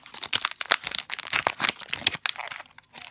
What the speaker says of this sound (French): on va essayer de les ouvrir cette fois-ci sans aide de ciseaux